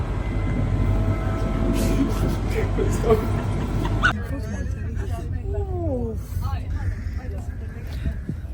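Steady low rumble of a moving train heard from inside a carriage, loud at first then easing, with people talking over it.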